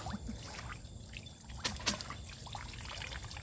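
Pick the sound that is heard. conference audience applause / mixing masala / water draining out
water draining out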